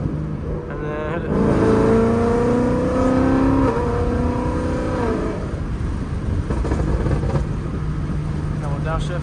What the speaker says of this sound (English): I'm gonna do a downshift. One more downshift,